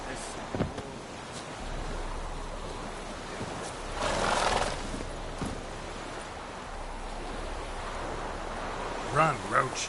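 Roach the horse in The Witcher 3 whinnies and snorts amid galloping hoofbeats, wind and game ambience, with a louder neigh near the end and voices talking at points.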